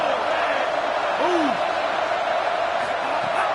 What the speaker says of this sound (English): A big third down coming, and hotty-toddy, gosh almighty, this crowd is ready.